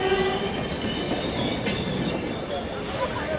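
The Jammu Tawi–Kolkata Express rolls into platform 4 with a steady loud rumble of wagons, a sustained wheel squeal and rhythmic clacking under the station's busy ambience.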